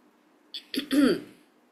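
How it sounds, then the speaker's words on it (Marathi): A single short throat clearing, a few rough rasps in quick succession, close and moderately loud against quiet, voiced by a storyteller acting out a character. "मग थोडासा लक्ष्मण खाकरतो"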